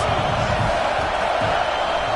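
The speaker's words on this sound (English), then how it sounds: "Big third down as the crowd gets behind this defense." Steady roar of a packed stadium crowd at a Notre Dame versus Michigan college football game, a dense, continuous wash of voices building behind the defense on a big third down.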